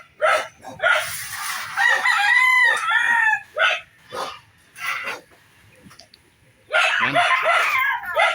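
Roosters crow repeatedly at a small backyard chicken farm, loud drawn-out calls close by with pauses between, alongside a few scattered clucks and a brief word spoken.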